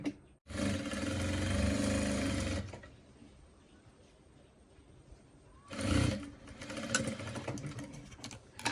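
A sewing machine stitching a seam in fabric runs loud and steady in two bursts, about two seconds each, separated by a quieter pause, with no talk.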